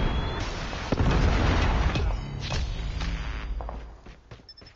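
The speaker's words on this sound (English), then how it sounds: "Predator missile inbound." Explosions and bursts from a Predator missile strike in the Call of Duty Mobile video game, a dense run of loud blasts and booms with scattered pops and footsteps, fading near the end.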